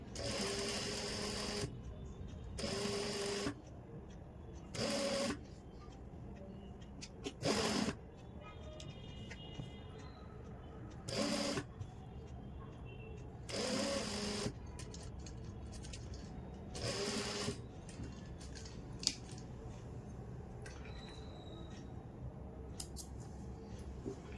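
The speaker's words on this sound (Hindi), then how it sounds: "रखने के बाद बिल्कुल किनारे के ऊपर सिलाई लगाएंगे। जहाँ पर पाइपिंग की डोरी है, डोरी के साथ साथ सिलाई लगाएंगे।" Sewing machine stitching piping cord along the edge of a collar neckline, running in several short bursts of fast rhythmic stitching separated by quiet pauses, fairly close.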